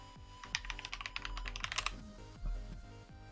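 Typing on a Keychron K4 mechanical computer keyboard: quick, irregular clacks in a brief flurry, then a few slower taps, faint and close.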